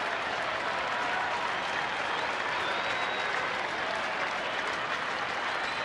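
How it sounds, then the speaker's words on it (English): A baseball stadium crowd applauds batter Colby at a Tigers–Rangers game, a broad steady wash of clapping and cheering that holds at an even level throughout. "Crowd applauding for Colby"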